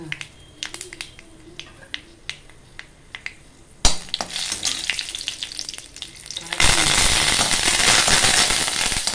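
Chillies and okra hit hot oil in a pan for a stir-fry: a few scattered pops at first, then a sudden loud sizzle that swells into a steady, intense frying hiss.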